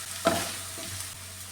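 Sliced onions with salt and curry leaves sautéing in a pan for beetroot fry, a brief steady sizzle opening with one sharp spatula scrape, close and alone.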